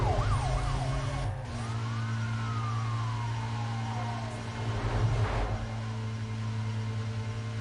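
A police car siren wails and sweeps up and down in the racing game Need for Speed Most Wanted, loud and steady over a constant engine drone.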